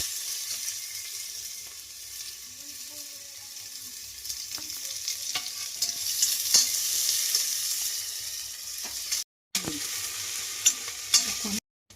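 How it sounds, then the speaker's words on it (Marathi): Salted onions sauté in a pan for Agri mutton rassa, a soft steady sizzle with occasional scraping stirs and brief clatters, close and fairly quiet, with no talk. "आता परतच राहायचं त्याला कांद्याला."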